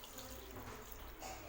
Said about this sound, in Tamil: இப்போ இந்த குழம்புக்கு தேவையான அளவுக்கு நம்ம தண்ணி ஊற்றிக்கலாம்.